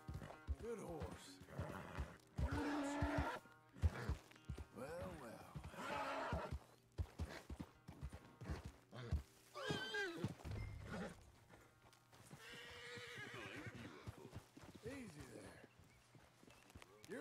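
A horse neighs several times and hooves clop and shuffle nearby, while someone talks calmly between the whinnies.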